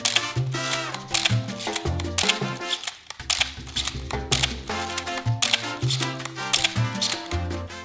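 An analog film camera is advanced and fired again and again, producing a steady run of crisp mechanical clicks and ratchety winding sounds in a quick, regular rhythm up close.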